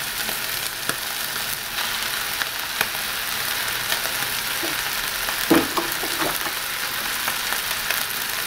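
Mashed potato frying with meat and onion in a pan gives a steady, close sizzle throughout, with occasional soft clicks of stirring and no talking.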